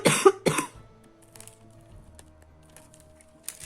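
Two quick, harsh coughs up close, followed by quiet room noise and a few soft clicks.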